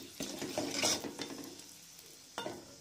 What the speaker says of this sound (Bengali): এটাকে একটু নাড়বো।